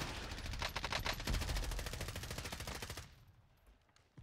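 Rapid automatic gunfire in Call of Duty: Warzone, a dense burst of close, loud shots lasting about three seconds before cutting off, with a faint sharp sound at the very end.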